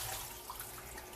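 Tap water runs steadily into a sink to soak fresh collard greens, a soft, even rush of water with no voices over it.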